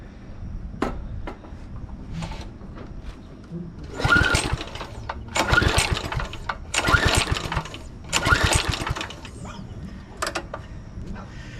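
The small engine of a 2007 McLane reel mower runs close by after a carburetor cleaning, surging in four rhythmic revving bursts over a steadier rattling idle.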